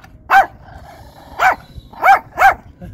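A protective dog barks four times nearby, one bark, a pause of about a second, then three in quicker succession, each sharp and loud over a quiet background.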